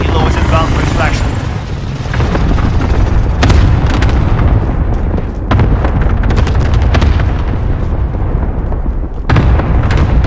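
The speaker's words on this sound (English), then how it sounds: "Allied cluster strike incoming." Cluster strike explosions in Call of Duty Modern Warfare Plunder, loud repeated booms and blasts layered over dense battlefield noise and rotor rumble, with sharp impacts around the middle and end.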